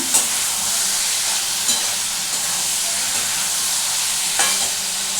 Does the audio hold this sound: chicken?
no